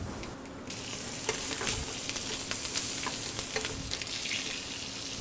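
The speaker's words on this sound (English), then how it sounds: "So now we're going to sear the partridge" Partridge sears in butter in a hot pan with a loud, continuous sizzle and crackle close to the ear, with occasional spits and pops and no talk.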